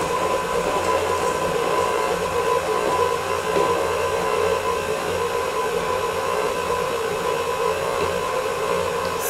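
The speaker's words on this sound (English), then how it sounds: "while I have my mixer on" An electric mixer whirs steadily and loudly without a break as it beats crumbled cake with melted white chocolate in a plastic bowl, with no talking over it.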